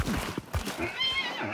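A horse in the video game Hunt: Showdown whinnies with a high, wavering neigh that rises above a few nearby hoof thuds and clops, fairly close and brief.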